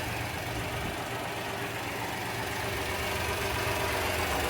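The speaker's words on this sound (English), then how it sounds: "Gasoline 3-cylinder engine located under the floor." A 1993 Honda Acty van's carbureted gasoline three-cylinder engine, mounted under the floor, idles steadily nearby with a low, even, slightly knocking thrum that continues without a break.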